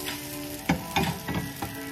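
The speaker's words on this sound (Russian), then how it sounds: "Жарится, подлец." Pancake batter sizzles and fries in a pan, a steady close crackle broken by a few louder scraping stirs, with no voices.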